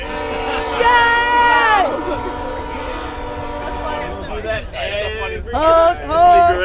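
A train rolls past a campsite with a loud, sustained multi-tone horn blaring twice, rumbling steadily underneath as voices talk nearby.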